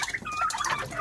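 Chickens clucking close by, a turkey's flock mates with four hens, short bursty calls overlapping in quick irregular succession with bright, piping tones.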